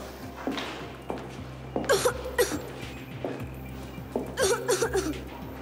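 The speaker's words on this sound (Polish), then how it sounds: "Kaszlesz. Męczy cię to, prawda?" A young girl in a hospital coughs in several short, harsh bursts, clustered in two fits a few seconds apart, close and fairly loud against a quiet room background.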